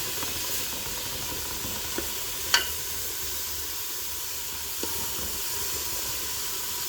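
Steady soft sizzling hiss of vegetables sweating in a pot for bean soup, with a few faint clinks and taps, no talking.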